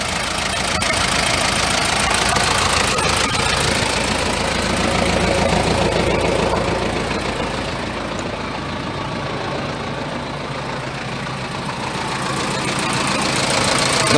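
Diesel engine of a 1995 Toyota Hiace with a 1KZ-TE, suffering from hard starting, runs with a steady, loud, knocking idle that slightly dips and rises in level throughout.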